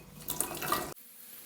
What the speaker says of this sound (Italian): aggiungendoci un po' di acqua